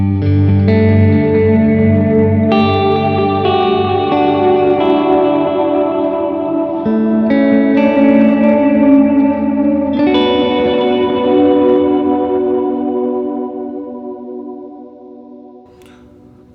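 Guitar run through a Strymon Timeline on tape delay, a Mercury X and a Gravity reverb pedal, sustained chords swelling into a lush, echoing wash with long repeats, loud and steady before fading out near the end, no talking.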